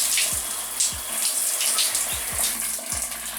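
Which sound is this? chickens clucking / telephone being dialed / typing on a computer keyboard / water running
water running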